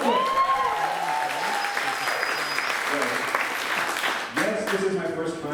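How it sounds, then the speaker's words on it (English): Audience at a stand-up comedy show bursts into steady, sustained applause, a dense wash of clapping filling the room for several seconds with a few whoops and voices mixed in. "Give me a round of applause."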